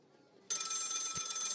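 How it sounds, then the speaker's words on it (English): A telephone bell starts ringing abruptly after a brief silence, a loud continuous electronic trill that carries on to the end. "phone ringing."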